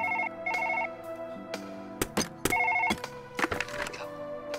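A telephone rings in the Surgeon Simulator video game, repeated electronic bell bursts with short gaps, mixed with clattering in-game thuds and knocks.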